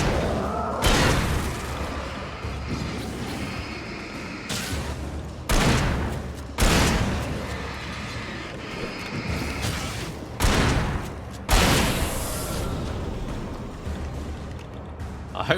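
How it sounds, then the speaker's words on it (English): Bursts of gunfire in the video game Alan Wake: several loud, sharp reports spaced a second or more apart over a dense, rumbling game soundscape, with no talking. "Fine, I guess we're shooting these guys"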